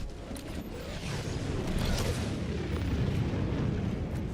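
Strafing-run explosions in the video game Darklight Survivor: a sustained, loud barrage of rumbling blasts and booms that builds over a few seconds and rolls on continuously without any talk.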